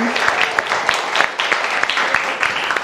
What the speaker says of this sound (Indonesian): boleh tepuk tangannya suara perempuan